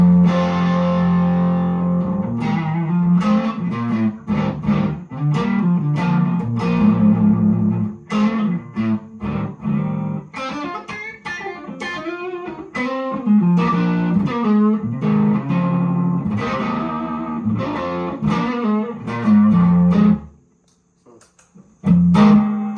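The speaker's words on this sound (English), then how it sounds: "just to give you an idea of what the amp sounds like dry" An electric guitar plays a run of plucked notes and chords through an amplifier with a clean, dry tone and the bass set low, then stops near the end.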